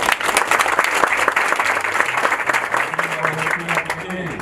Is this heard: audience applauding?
yes